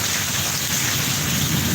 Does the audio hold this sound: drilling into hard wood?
no